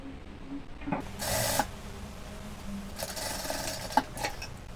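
An industrial sewing machine stitches the hem of a dish towel in short bursts of fast, buzzing mechanical whirring, with a few sharp clicks between runs, close and loud.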